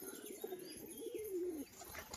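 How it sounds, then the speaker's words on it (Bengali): A breeding pair of red tumbler pigeons coos softly nearby, a low drawn-out rolling coo rising and falling over about a second amid faint background noise. "পুরো ব্রিডিং মুডে রয়েছে পায়রা জোড়া"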